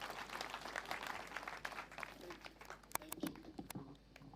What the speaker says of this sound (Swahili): Tupigie shosho makofi mazuri